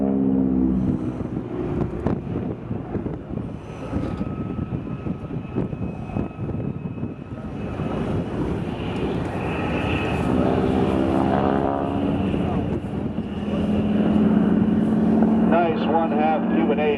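A WWII airplane with a 1,000 horsepower piston engine roars steadily through an airshow pass, loud and sustained with a shifting drone as it moves, alongside crowd and announcer speech.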